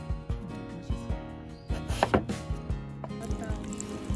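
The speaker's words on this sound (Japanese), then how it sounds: "5ミリ幅ぐらいに切っていきます。" A knife cuts sweet Aomori apples into 5 mm slices on a board, giving evenly spaced, crisp chopping taps over light background music.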